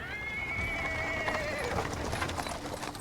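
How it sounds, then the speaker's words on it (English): A horse in the video game Pathfinder: Wrath of the Righteous whinnies in a long wavering call, then hooves clip-clop and cart wheels roll over paving stones, steady and moderately close with no talk. "A cart drawn by a sad little horse appears from around the corner."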